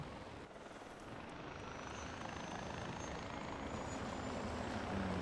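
Helicopter coming in to land in the video game Far Cry 4, a steady broadband rotor and engine roar that holds at an even, fairly loud level throughout with no talk over it.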